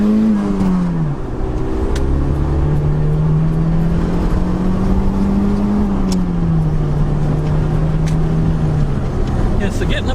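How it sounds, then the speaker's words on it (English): A turbocharged Mazda Familia engine is held and pulled through its rev range, giving a steady, smooth droning hum that climbs slightly in pitch, dips, then settles, loud and close throughout. "we'll be able to do a RPM run"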